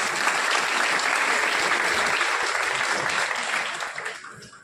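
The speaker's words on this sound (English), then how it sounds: "Everybody, a big round of applause for all of them." An audience at a college law fest valedictory session gives guests a big round of applause, a loud, dense, steady wash of clapping that tapers off in the final second.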